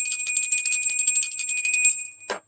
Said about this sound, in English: I didn't even ring the bell.